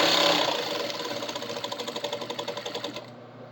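A sewing machine stitches scrunchie fabric in a fast, even run of rhythmic mechanical pulses, close and clear, slowing to a stop at the end.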